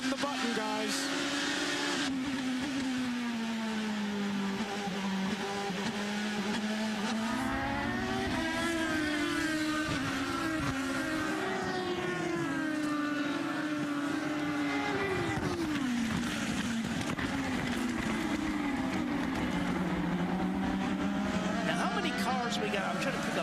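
IndyCar race cars from 2010 accelerate hard off the final corner on a green-flag restart at Barber Motorsports Park in Alabama, engines rising and falling continuously and loud throughout, with a commentator talking over them.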